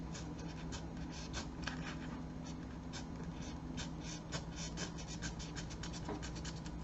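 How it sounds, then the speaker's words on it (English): A blade cuts diagonally into a post-apocalyptic tabletop terrain piece, giving a close, steady run of short scratchy, scraping strokes in quick irregular rhythm, with no talking. "now I'm going to go in and cut diagonally, try and pull out some of this nonsense"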